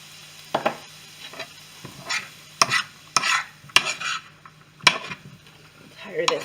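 Shrimp fried rice sizzling in a hot pan, a soft steady hiss broken by repeated sharp scrapes and clacks of a utensil stirring and tossing the rice, close and moderately loud.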